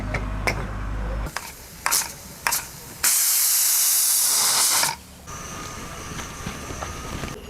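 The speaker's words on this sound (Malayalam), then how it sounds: "കുക്കർ അടച്ച് ബീഫ് വേവിച്ചെടുക്കാം." A pressure cooker holding beef lets off a loud, steady hiss of steam for about two seconds, set among a few sharp clicks and kitchen noise.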